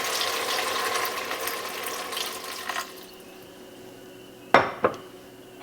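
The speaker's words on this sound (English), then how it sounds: "So I'm just going to add a little water in here." Water pours in a steady stream for a few seconds into a cooking pot with bacon, then stops, followed by a couple of sharp metallic clanks of the pot.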